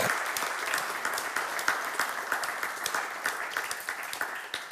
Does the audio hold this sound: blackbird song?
no